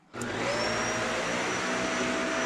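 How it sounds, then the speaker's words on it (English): A household vacuum cleaner running on an Anker Solix C1000 power station switches on abruptly and then whirs loudly and steadily, close by and with no voices. "Can the Anker Solix C1000 run this household vacuum?"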